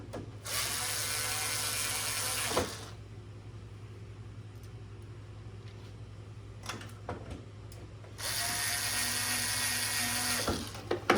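Two spells of a power screwdriver whirring as it drives screws into the main board of a Pioneer EZ Shrink EZ3k shrink-wrap machine, with quiet clicks and handling noise between them over a low steady hum.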